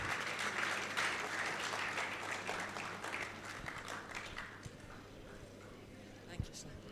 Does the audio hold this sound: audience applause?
yes